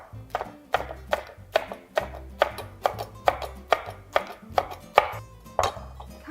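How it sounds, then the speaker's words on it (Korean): A knife chops perilla leaves on a cutting board in a steady run of about fourteen crisp, close strokes, with no talking. "다음으로는 깻잎도 썰어주세요."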